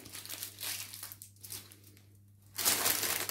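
Close crinkling and crushing of aluminium foil wrapped over a baguette in baking paper, a few soft rustling bursts separated by quiet pauses, ending in a louder crumple.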